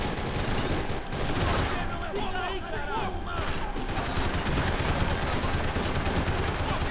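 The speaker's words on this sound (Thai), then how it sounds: "ยิงไม่โดนเลย" Gunfire in the video game Max Payne 3: dense, loud bursts of shots in rapid succession that carry on steadily throughout, with a player's voice exclaiming over the shooting.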